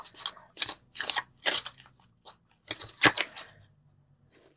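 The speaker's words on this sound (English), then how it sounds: "So let's pull the Universal Love cards." Tarot cards from a Universal Love deck being drawn and handled: crisp, close shuffling and snapping card sounds in irregular bursts, with short pauses between and no talking.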